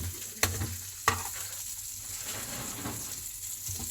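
Pansit noodles stirred into vegetables in a pan, giving a soft steady sizzle with two sharp utensil clanks early on and gentle scraping strokes, close and fairly quiet.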